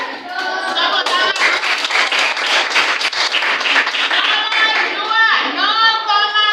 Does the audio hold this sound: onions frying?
no